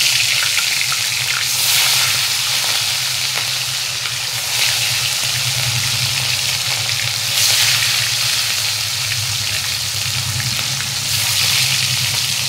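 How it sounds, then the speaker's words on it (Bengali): Fish frying in hot mustard oil in a kadai, a steady loud crackling sizzle that runs throughout with small swells, no voices present. "কড়াইতে তেল গরম হয়ে গেছে, এবার আমি মাছ ভাজার জন্য মাছ তুলে দেবো।"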